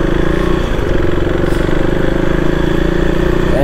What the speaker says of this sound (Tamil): இன்ஜின் சவுண்ட் டிஃப்ரெண்ட்டாக இருக்குது, சூப்பராக இருக்குது